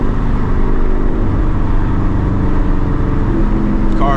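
A 2021 Ford Mustang GT with catless stainless long-tube headers and an H-pipe rumbles loudly and steadily while driving in cold weather, a dense low engine drone filling the whole stretch with a slight change near the end.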